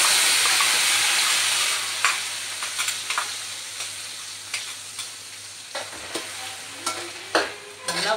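Ground onion paste sautés in a pan with a strong sizzle that fades slightly, while a spoon scrapes and knocks against the pan in irregular strokes; nobody talks.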